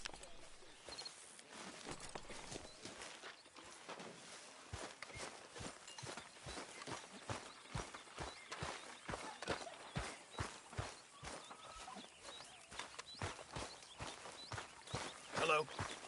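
Horse hooves clip-clop in the video game Red Dead Redemption in an even walking rhythm, fairly quiet and steady, with faint background ambience and a few birds.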